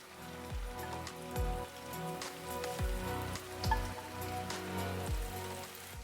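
Chanterelle mushrooms fry in hot oil with a steady crackling sizzle and scattered popping bursts, heard under background music with a deep rhythmic bass line.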